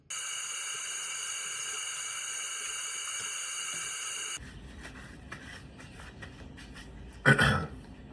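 Orange peels are rinsed under a running tap, a steady hiss of water for several seconds that then cuts off, followed by quieter handling and a brief louder clatter.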